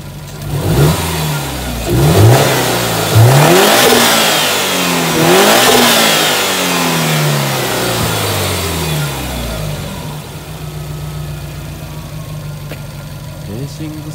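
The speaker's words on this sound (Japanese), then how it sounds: "ただちょっと吸気音を聞いてみます。" A Subaru WRX STI (VAB) fitted with an HKS dry carbon suction intake is revved in a few sharp, loud blips that rise and fall close up, then settles back to a steady idle.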